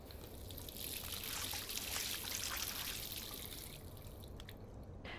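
Water pours and splashes at a sink in Life is Strange, a soft continuous trickle with scattered drips and splashes, fairly quiet, fading slightly toward the end.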